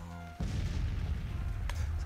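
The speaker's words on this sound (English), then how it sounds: "the artillery is messing up my skirmishes here" A heavy boom of artillery fire in the Civil War strategy game Grand Tactician, one sudden blast followed by a long low rumbling roll that stays loud to the end.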